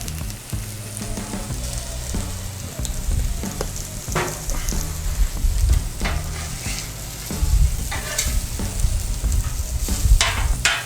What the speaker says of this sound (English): Go ahead and lay down a little bit of oil on these veggies.